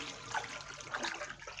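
Water churned and sloshed in a tilapia fish tank, a continuous splashing, trickling wash at moderate level with a few brighter splashes, no voices.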